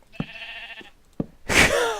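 Sheep bleating in the Minecraft video game, a couple of short clipped bleats followed by a louder, brighter bleat, close and clear with no talking.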